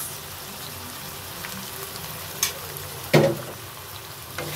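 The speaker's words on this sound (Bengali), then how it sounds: "এখন ভালো করে নাড়াচাড়া দিয়ে মিশিয়ে নেব আর রান্না করে নেব 4 থেকে 5 মিনিট" Ground spices with ginger, garlic, cumin and garam masala fry in a pan for chow mein, a soft steady sizzle broken by a few louder scraping stirs.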